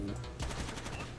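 Burst of video game gunfire from Rainbow Six Vegas 2, a rapid run of loud, close shots rattling through the whole short moment without any talking.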